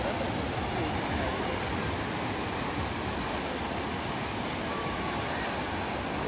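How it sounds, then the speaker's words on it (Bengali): Dassam Falls near Ranchi running with low winter water flow gives a steady, even rushing hiss of falling water. The sound continues without a break and is heard from some distance. "এই হচ্ছে দশম ফলস। সমস্যা প্রতিটা ফলসের একটাই, যে জল কম"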